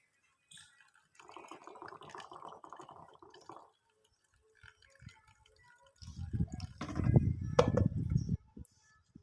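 Pomegranate juice poured little by little into a container: soft, intermittent trickles and drips at first, then a fuller, louder splashing pour near the end, with no talk.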